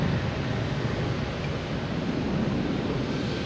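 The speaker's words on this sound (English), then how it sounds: "When you can hear me over the planes, they're the stars of the show here" Jet airliners roar at Boston Logan Airport during takeoffs and landings, a loud, steady, broadband engine rumble filling the whole stretch with no pauses and no voices over it.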